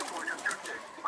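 Domestic pigeon cooing softly in a short, repeated, low burble from a rooftop loft, fairly faint, with a light airy background and no talk.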